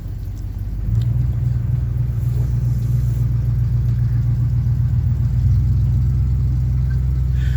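A Chevy C10 pickup truck creeps slowly around a home driveway, its engine a steady low rumble that rises slightly after the first second and holds evenly, close and alone without talk.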